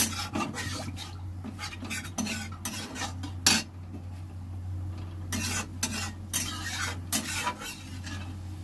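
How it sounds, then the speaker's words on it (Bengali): A wok being rinsed with a little water in a home kitchen, with irregular scraping and swishing bursts of metal and water over a steady low hum, close and fairly loud, no voices. "কড়াটা জল দিয়ে অল্প করে ধুয়ে নেব, অল্প করে জল দিয়েছি।"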